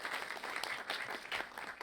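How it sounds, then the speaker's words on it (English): Dense audience clapping at a documentary screening Q&A panel, a brief continuous burst of applause heard from within the room. "I think that's applause worthy"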